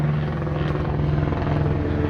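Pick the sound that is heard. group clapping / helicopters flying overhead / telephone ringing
helicopters flying overhead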